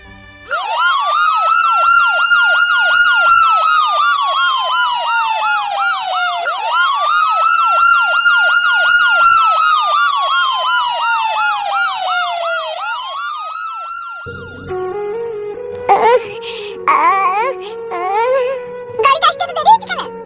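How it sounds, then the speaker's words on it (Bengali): A cartoon ambulance siren wails loudly and steadily in repeated rising-falling cycles for most of the clip, then cuts off as a brief burst of other sounds and voices follows near the end. "এখনই অ্যাম্বুলেন্স আসছে"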